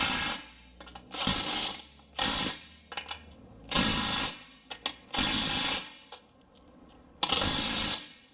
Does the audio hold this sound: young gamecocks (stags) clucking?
no